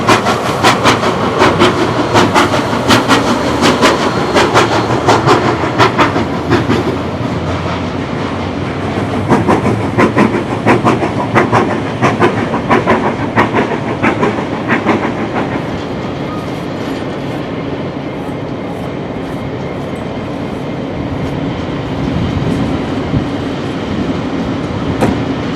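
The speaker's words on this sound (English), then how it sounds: "The two engines now arrive at Moss Vale." Two locomotives hauling a train arrive at Moss Vale station in New South Wales, loud and close, with rhythmic clickety-clack of wheels over rail joints that eases and grows quieter as the train slows.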